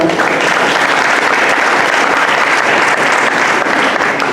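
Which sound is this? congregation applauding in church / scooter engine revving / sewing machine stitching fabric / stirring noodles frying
congregation applauding in church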